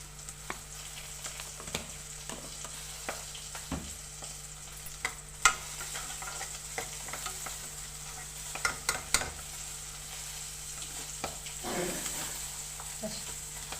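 Brinjal pieces fry in a pan for a mixed five-vegetable curry, a steady soft sizzle broken by scattered scraping clicks of a spatula stirring them, fairly close and with no voices.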